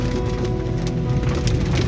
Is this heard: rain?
yes